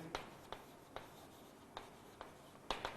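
Writing on a board during a physics lecture on length measurement, heard as faint, separate scratchy strokes in an irregular rhythm, with no talk.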